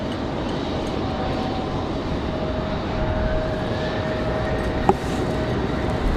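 A Republic Airways Embraer E175LR regional jet arrives at Raleigh-Durham after a flight from DCA, its engines a steady, moderately loud rush with a faint whine gliding through it and a brief sharp click near the end.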